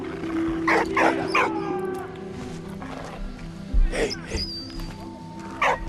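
A dog in Valiant Hearts: The Great War barks in several short sharp bursts over a tonal game music bed with faint whines, the barks spaced irregularly and fairly close.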